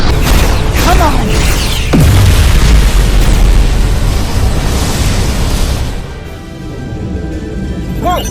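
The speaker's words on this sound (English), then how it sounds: "Whoa! Dilithium explosion!" A loud sci-fi dilithium explosion effect with a deep booming blast, crackling debris and whooshing sweeps, which fades into a lower rumble near the end.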